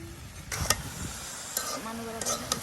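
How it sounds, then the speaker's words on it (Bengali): Beans and potatoes tossed with spices in a frying pan for a Sherpur-style bean and potato fry: a scraping stir with a soft sizzle and a few utensil clinks, close and fairly quiet. "এই যে আপনার এখন সবকিছু একদম মশলার সাথে দেখুন উলট পালট করে দেওয়া হচ্ছে।"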